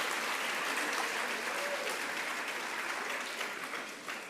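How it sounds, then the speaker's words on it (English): Audience applause at the Miami Book Fair's 32nd anniversary event, a dense, steady wash of clapping from a large crowd that holds strong and then fades slightly toward the end, with no voices over it. "You can applaud."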